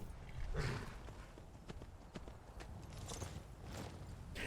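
Horse hooves clip-clop in the video game Skyrim at a steady walking rhythm, fairly close and moderately quiet, with a faint low background underneath.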